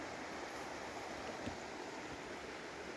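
A river flows beside a picnic spot on the Pennine Way, giving a steady, even rushing wash with no other distinct sounds.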